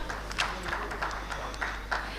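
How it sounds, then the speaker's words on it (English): Scattered applause from a conference audience at an urban infrastructure and railway expo summit, a few loose bursts of clapping rising and falling over a steady room hum. "May we have a big round of applause"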